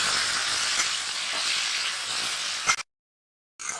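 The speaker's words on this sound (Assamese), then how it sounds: "এতিয়া কোমোৰাখিনি ভালদৰে ভাজিম," Pumpkin pieces fry in a pan with a steady, close sizzle that runs for a few seconds, cuts out abruptly into silence, then returns briefly.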